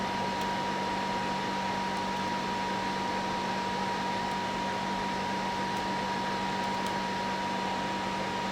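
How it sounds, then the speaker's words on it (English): Cooling fans of a PlayStation 3 console running loud and steady, a constant broadband whir with a low hum that holds unchanged throughout, close and with no talking. "I did not know that the fans can be so loud though"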